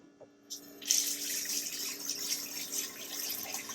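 A tap on a liveaboard cruiser boat turns on after a couple of soft clicks, and water runs steadily into a sink, a constant hissing splash close by.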